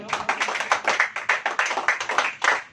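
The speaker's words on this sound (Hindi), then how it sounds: "तो आइए ताली बजाएंगे हम" A church congregation claps hands in a steady, even rhythm of about fifteen sharp claps. The claps are fairly close and distinct, with no talking.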